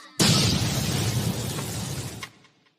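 A bomb explosion sound effect from an intro tune: a sudden loud boom that bursts in, holds a roaring rumble for about two seconds, then cuts off abruptly.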